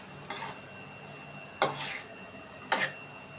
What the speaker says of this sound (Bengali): এগুলো আমি ভালোভাবে নেড়ে কষিয়ে নেব।